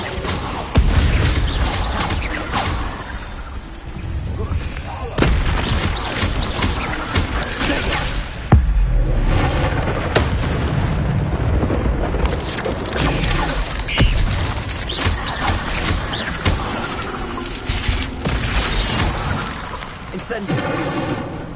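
Incendio fire spells cast again and again in Hogwarts Legacy, with whooshing bursts and crashing impacts over busy, mechanical game noise that runs loud and unbroken throughout, and a voice speaking in places.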